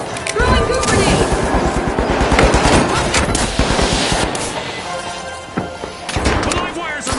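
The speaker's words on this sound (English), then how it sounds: "Throwing goo grenade!" Goo grenade thrown during a match of The Finals, with a busy mix of gunfire, impacts and crashes, and voices talking over the action.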